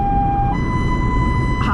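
An ambulance siren in slow standard rhythm mode, a loud sustained wail holding one pitch, then rising and holding again, over road rumble and a faint voice.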